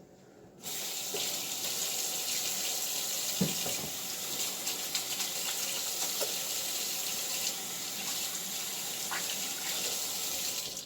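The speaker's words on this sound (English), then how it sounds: "Let me wash my hands." A kitchen tap runs steadily for hands being washed, a continuous close rush of water starting abruptly after a brief quiet moment, with a few small clatters in the sink and no talking.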